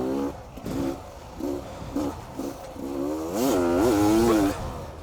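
A 2017 Beta 300 RR two-stroke dirt bike engine revs hard and close, with rising and falling buzzy throttle blips that build into a sustained high-pitched wail before easing off.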